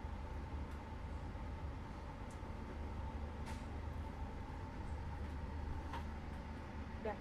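Inside the executive coach of the Gaya Baru Malam Selatan train as it leaves Madiun station, a low, steady rolling rumble with a few faint squeaks and clicks, heard quietly from the cabin.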